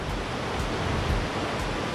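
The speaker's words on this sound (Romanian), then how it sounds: "Toată apa asta iese din izbucul Ponor," Water pours out of the Ponor karst spring in the Padis mountains, a dense, steady roar of rushing flow heard up close and alone, without any voices.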